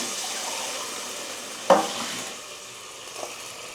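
Water poured into stuffed bitter gourd curry in a hot pan, a brief splash followed by a soft sizzling hiss that settles into a low steady bubbling, with no talk.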